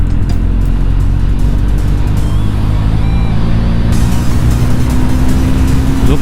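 Close, loud, continuous engine roar from a Triumph Scrambler 400x motorcycle accelerating on an Indian road, with rising tonal whine and heavy wind rumble throughout.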